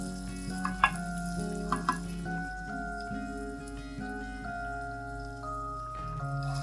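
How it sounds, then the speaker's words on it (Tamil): Onions with ginger garlic paste frying in a kadai, a steady close sizzle with occasional stirring clinks, heard alone under a continuous musical backing. "போட்டு நல்லா வெங்காயம் வந்து நல்லா கோல்டன் ப்ரௌன் வர்ற அளவுக்கு வதக்கி எடுத்துக்கலாம்."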